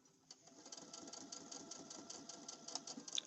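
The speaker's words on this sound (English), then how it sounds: "take it to the sewing machine" A sewing machine stitches a tote bag handle, running back and forth to reinforce it while making a reversible tote. It gives a close, steady, rapid whirring hum, continuous and alone without talk.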